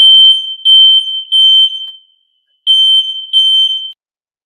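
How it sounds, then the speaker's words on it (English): Fire alarm sounding in loud, piercing high-pitched beeps in a steady pattern of short bursts, with one longer pause before the beeping resumes, close and dominant with no talking. "It's a fire alarm."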